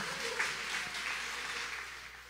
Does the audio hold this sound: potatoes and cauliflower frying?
no